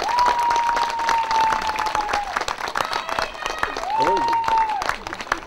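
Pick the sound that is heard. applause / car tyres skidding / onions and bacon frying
applause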